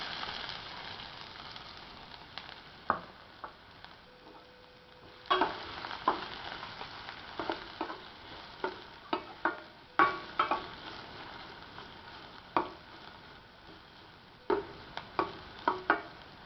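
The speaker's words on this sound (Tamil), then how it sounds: "பிறகு பொடியாக நறுக்கிய வெங்காயம்," Finely chopped onions drop into hot oil with cumin seeds in a kadai, giving a quiet, steady sizzle broken by sharp scrapes and clicks from a stirring spoon at irregular intervals.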